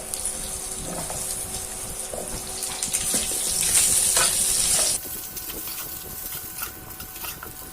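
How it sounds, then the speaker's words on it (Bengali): Whole cumin seeds and diced potatoes hit hot oil left from frying fish-roe fritters, giving a loud, close, hissing sizzle with stirring clatter that swells midway and then settles to a steadier fry. "বড়া ভাজার তেলে দিয়ে দিচ্ছি গোটা জিরা। এবার দিয়ে দেবো ডুমো করে কেটে রাখা আলু।"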